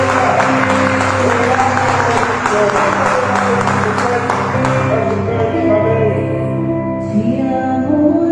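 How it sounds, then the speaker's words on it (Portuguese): A church audience at a faith seminar applauds steadily throughout, dense clapping blended over sustained music and a loud room ambience, with crowd noise rising beneath. "Você pode aplaudir o Senhor"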